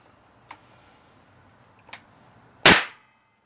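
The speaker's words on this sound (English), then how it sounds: "There's a primer in there. I'm going to go ahead and fire it." A rifle with a 7.62x45 chamber converted from .308 fires a primer, a single sharp close crack after two small metallic clicks, followed by a short fading tail in quiet surroundings.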